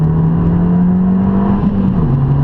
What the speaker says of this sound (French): on va peut-être passer en mode sport pour l'échappement, comme ça vous entendez la différence.